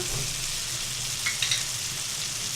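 Cumin seeds fry in oil for a white karahi with a brief, even sizzle, close and moderately loud, and a faint crackle midway.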